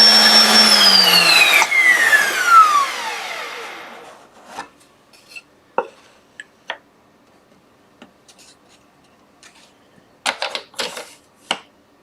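A router cutting dovetails on a Gifkins dovetail jig whines loudly, then spins down over a few seconds. Scattered clicks, taps and clamp-adjusting knocks follow in near-quiet.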